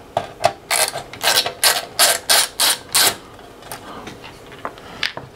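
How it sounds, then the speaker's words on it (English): T10 Torx bit turning small screws out of a Jeep Wrangler CD player, giving a run of about ten quick ratcheting clicks in even bursts, close and fairly loud, followed by a few scattered softer clicks. "So I'm just using a T10 Torx bit."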